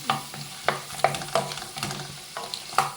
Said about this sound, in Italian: La seppia sta cominciando a scoppiettare